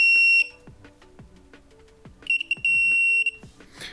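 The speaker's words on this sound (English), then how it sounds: "but still it beeps." Shrill electronic buzzer on a 1S tiny whoop quadcopter beeps: a long tone, a series of soft clicks, then several short beeps and another sustained tone, fairly loud and close.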